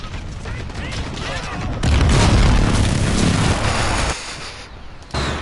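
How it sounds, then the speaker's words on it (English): A cruise missile strike lands in a Call of Duty: Modern Warfare Ground War match, a loud booming explosion swelling for a couple of seconds amid scattered gunfire and rumble, with brief voice chatter around it. "Allied cruise missile away."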